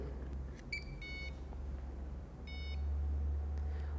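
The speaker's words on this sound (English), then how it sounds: "Once the second beep is heard," An Askari Nano detector beeps on startup after its batteries go back in: two short electronic beep bursts about a second and a half apart over a low background hum, fairly faint, with no talking.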